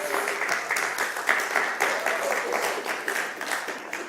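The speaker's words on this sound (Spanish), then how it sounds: "¿Podemos darle un aplauso a Joana?" Church congregation applauding Joana, the children's teacher, during a service: a steady patter of many hands clapping, moderately loud and continuous, with faint voices mixed in.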